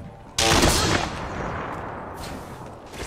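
Gunfire in the battle royale game Apex Legends: a sudden loud burst of rapid shots, followed by a long ringing, rumbling decay that fades over a few seconds.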